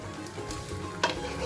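Porotta fries in a pan with a little oil, a close, steady sizzle with a brief scrape of a utensil partway through and no voices.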